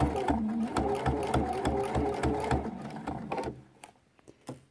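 A sewing machine stitching quilt binding, running in a rapid even rhythm of needle strokes, then slowing and stopping with a few final clicks as the needle comes to rest in the fabric.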